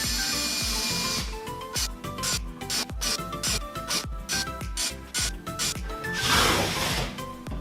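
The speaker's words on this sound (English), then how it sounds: "You might find it easier to do the sides first and then secure the centre screw." A power drill drives screws into a plywood kart box, with repeated short bursts and stops, sharp ratcheting clicks and handling knocks, and one longer hissing whir toward the end.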